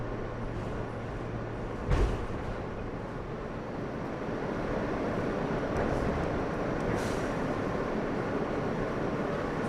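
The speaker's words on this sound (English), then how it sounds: "This is the last stop on this train." A New York subway train stands at the Astoria–Ditmars Boulevard terminal, its low rumble and hum steady and moderately loud, with a brief thump near the start and faint hissing bursts later, no talk.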